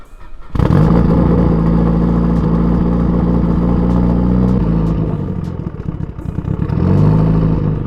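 A turbocharged Subaru STI engine runs steadily as the car is driven, giving a loud, continuous close drone with a rough clattering edge. The pitch dips briefly, then climbs again as the engine revs up.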